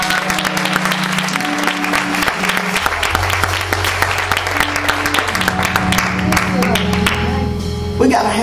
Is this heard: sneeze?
no